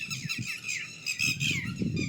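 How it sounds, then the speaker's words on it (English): Several birds give harsh, close squawks, about half a dozen calls in quick, uneven succession over two seconds, with no other sound between them. "there are so many birds."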